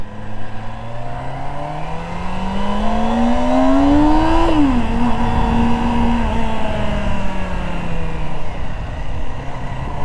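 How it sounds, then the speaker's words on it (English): A 2024 Kawasaki ZX-25R SE motorcycle with a high-revving four-cylinder engine, a close, loud continuous engine whine that climbs steadily in pitch, drops sharply at a gear change, then holds and gradually eases off. "high revving 4-cylinder Kawasaki engine."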